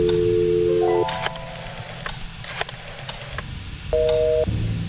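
Telephone dialing in the horror adventure game Scratches: several clear keypad tones in quick succession, a pause, then another pair of tones over a low steady background hum.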